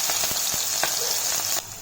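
Finely chopped green chili, garlic and ginger hit hot oil in a kadai, giving a steady, close sizzle with light crackling pops before the hiss abruptly quietens near the end.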